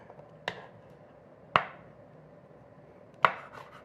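Three separate crisp knife chops through a green onion stalk on a cutting board, each a sharp close thud with a short decay, spaced unevenly with quiet between them.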